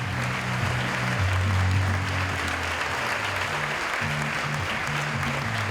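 Applause from the audience at a Swiss vocational diploma ceremony for hospitality apprentices, a steady sustained wash of clapping with a low tonal hum of music or voices running beneath it.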